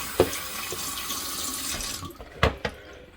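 Food being washed under a running kitchen tap, a steady soft hiss of flowing water with a few sharp splashes and clatters near the end, no voices.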